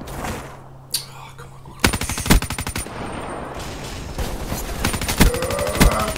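Light machine gun fire in a Call of Duty match, loud sustained rattling bursts starting after a short pause, with sharp shots and brief gaps between volleys.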